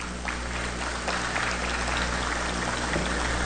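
Audience applause at an international forum on state reform, a steady, even wash of many hands clapping at moderate volume with no talk.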